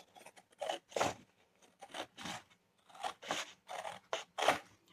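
Scissors cut straight down the center score line of a folder made from cardstock, a series of about nine close, crisp snipping strokes in an uneven rhythm with short pauses between.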